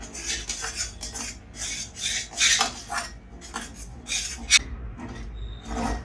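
Rice flour dough for mugori is stirred and worked in a pan with a utensil, giving steady close rasping and scraping strokes in an irregular rhythm, with no voices.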